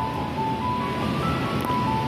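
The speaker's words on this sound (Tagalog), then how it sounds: "Sobrang lakas ang ulan," Heavy rain pours steadily during a black rainstorm, a dense, continuous broadband roar with no breaks and no voices over it.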